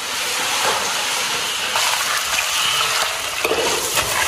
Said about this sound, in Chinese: 把它煎得干一点，然后再倒入我的阿奇版秘制料汁下去